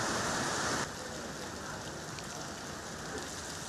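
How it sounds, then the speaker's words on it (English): Heavy rain with hail pours down in the eastern province of Kars, a dense steady hiss of drops hammering surfaces, louder at first then settling into a continuous roar. "Intense hail and heavy rainfall triggered severe flash floods in the eastern province of Kars"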